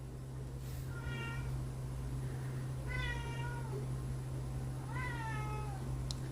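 A cat meowing three times, spaced a couple of seconds apart, clear and fairly close over a steady low electrical hum in a garage-like room.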